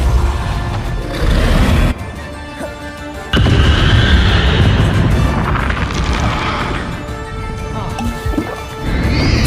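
The Repulso spell cast in Hogwarts Legacy, loud booming magical blasts arriving in several bursts with rumbling, crashing tails between them.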